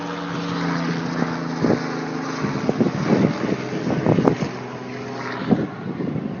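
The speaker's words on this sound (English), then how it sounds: "we got a helicopter coming over" Rhythmic thudding rotor drone of a helicopter passing overhead, steady and fairly close, with wind buffeting the microphone.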